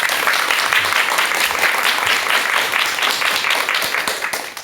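An audience applauds to welcome a lecturer to a talk on managing desire, steady dense clapping that fills the room throughout and tapers slightly at the end.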